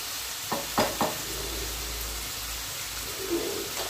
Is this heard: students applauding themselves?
no